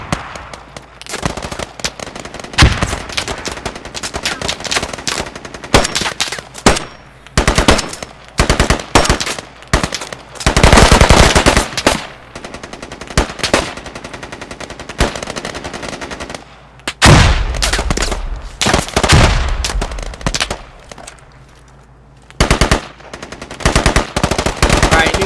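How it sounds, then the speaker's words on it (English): Gunfire in the military shooter game Squad during a compound defense, bursts of rapid automatic fire and single shots cracking loudly in irregular clusters, with voices talking between volleys. "Where the fuck are we getting shot from?"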